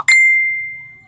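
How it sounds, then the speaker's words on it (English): A single phone notification ding, a bright clear tone that rings out and slowly fades, loud and close, with a faint murmur underneath. "my phone going off"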